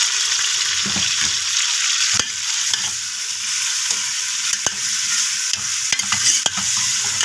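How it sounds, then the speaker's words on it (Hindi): Onions and masala sizzle steadily in a frying pan, a loud continuous hiss with a few sharp stirring clicks and scrapes scattered through, no voices. "और प्याज हमारे फ्राई हो गए हैं, और इसके बाद अब मैं ये मसाला ऐड कर दूँगी"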